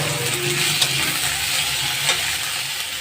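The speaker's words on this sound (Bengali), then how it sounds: "এগুলো আবার ভালো করে কষিয়ে ভেজে নিব" Chopped potato and tomato fry in a pan during preparation of a Bangladeshi freshwater eel charchari, with a steady broadband sizzle, faint scraping stirs and a low background hum, loud and continuous.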